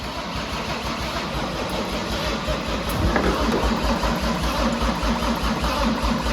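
A turbo diesel engine swapped into a Datsun 240Z cranks and catches, settling into a rough, steady running rumble that grows slightly louder midway, heard up close.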